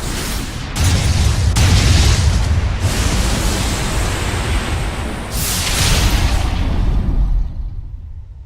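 Cannon fired during a battle in the video game Tales of Zestiria, a heavy sustained roaring blast with rumbling noise that swells and fades over several seconds, loud and with no talk.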